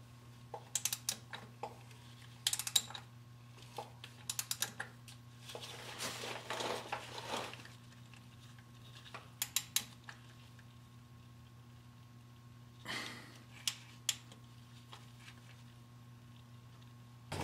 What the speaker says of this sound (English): You notice I'm only using my thumb on the ratchet